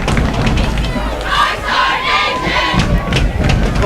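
A large high school football crowd cheers and yells loudly at a night game, a dense continuous roar with rising swells and shouted cries throughout.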